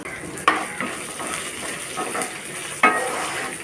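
Green chillies, crushed garlic and curry leaves sizzle steadily in hot oil, with two sharp metallic clatters of a spoon against the pan cutting through the close frying hiss.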